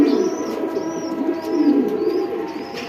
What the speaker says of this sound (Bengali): সাপচিলা কবুতর, মাদি কবুতর, চোখটা দেখেন